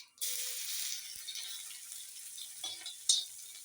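Cumin and garlic drop into hot oil with a sudden loud sizzle that settles into steady frying crackle, with a few clinks and stirring rattles, close by and without talk.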